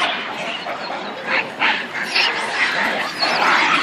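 Dogs barking and yelping at monkeys in India, a dense, noisy clamor of overlapping animal cries that swells in several surges, fairly loud and continuous, with some voices mixed in.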